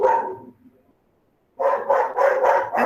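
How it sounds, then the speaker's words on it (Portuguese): Several dogs bark in rapid repeated bursts close by, a loud bark at the start, a short pause, then a dense run of overlapping barks. "os meus estão aqui procurando quem tá latindo"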